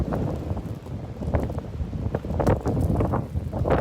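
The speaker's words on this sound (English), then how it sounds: "It is so windy." Gusty wind buffets the microphone in a garden in low, rumbling surges that rise and fall unevenly, loud and close.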